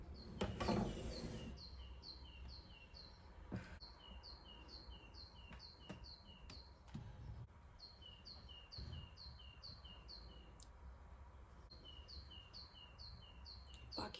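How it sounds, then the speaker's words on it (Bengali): Birds call outside an open kitchen window in the morning, repeated short chirping phrases coming in bursts at a moderate distance over quiet room tone, with a few faint knocks and clicks from inside. "পাখির ডাক দিতে থাকে আমার অনেক ভালো লাগে"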